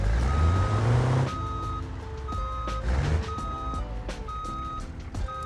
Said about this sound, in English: let's try to see if we can back this thing in without having to unload it